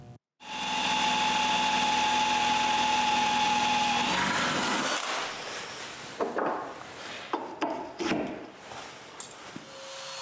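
A power drill bores a hole in wood for a shelf locking pin, a steady loud whine for about four seconds, then rough intermittent grinding and bursts as the bit works through, near and without talk.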